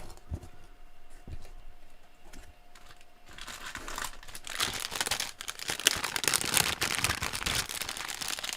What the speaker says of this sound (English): ASMR crinkling hour